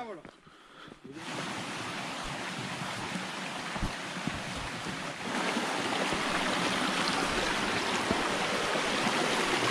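Deojhar waterfall near Cuttack roars as a constant broadband rush of falling water, growing louder partway through, with no talking.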